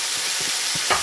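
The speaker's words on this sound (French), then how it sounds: "je fais revenir les boulettes de tous les côtés" Coconut curry meatballs brown in a frying pan with a bright, continuous sizzle close up, broken by a few soft stirring scrapes.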